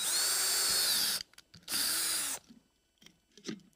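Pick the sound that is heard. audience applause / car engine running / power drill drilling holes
power drill drilling holes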